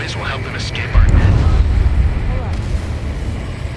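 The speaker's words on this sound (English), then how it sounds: "A huge explosion just went off underwater." A huge underwater explosion in the Ace Combat 7 flight combat game, a deep booming rumble that hits suddenly about a second in and keeps rolling loudly under a steady roar, with a voice talking over it.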